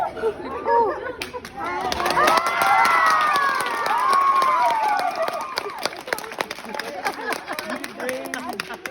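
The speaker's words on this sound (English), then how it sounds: "everybody's cheering" An excited crowd cheers and shouts at an event meeting Colleen and Erik, loud and sustained with high-pitched voices and whoops, mixed with clapping and nearby talking.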